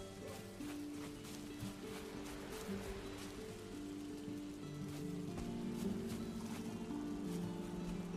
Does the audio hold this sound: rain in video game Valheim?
yes